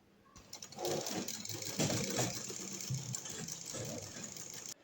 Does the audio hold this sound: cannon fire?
no